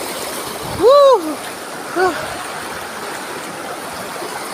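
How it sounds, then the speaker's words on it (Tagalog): Mountain stream water rushing steadily over rocks near Canding Falls, a continuous broadband wash close by, with a loud whooping voice shouting briefly over it. "lalapit pa po tayo dun sa falls sa mismong talon"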